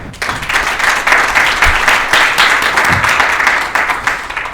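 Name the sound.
audience applause welcoming a speaker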